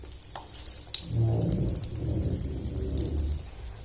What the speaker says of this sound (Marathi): तेल थोडं तापल्यानंतर यात आपण हे तयार केलेले कटलेट आता टाकायचे